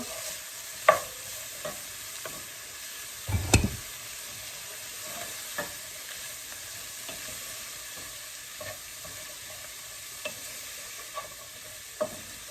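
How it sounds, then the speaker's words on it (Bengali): Vegetables fry in a pan while being stirred, a faint low sizzle broken by occasional sharp spatula knocks and scrapes, quiet and without voices. "সবজিগুলো একটু নাড়াচাড়া দিয়ে নেবেন"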